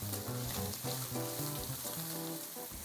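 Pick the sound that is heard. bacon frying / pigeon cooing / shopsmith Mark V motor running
bacon frying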